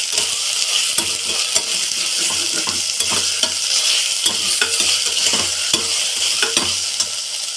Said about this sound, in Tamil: இப்போ இதிலேயே நாம் தக்காளி சேர்த்துக்கலாம் ஃப்ரெண்ட்ஸ். தக்காளி நல்லா வதங்கட்டும்.